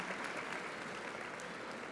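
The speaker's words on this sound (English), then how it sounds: "Please give these outstanding educators applause for their hard work." A large audience applauds at a 2013 high school graduation ceremony, a steady, dense wash of clapping from many hands that holds evenly for the whole stretch without pause.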